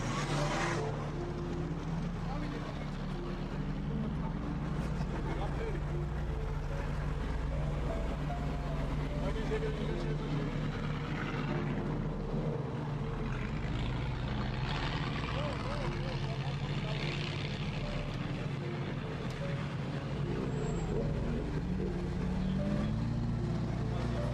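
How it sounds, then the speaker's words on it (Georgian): Historic and classic cars roll in a festival procession in Telavi. Engines rumble in a low, steady drone throughout, and people talk over the traffic noise. "პირველად ავტომობილები იწყებენ მსვლელობას."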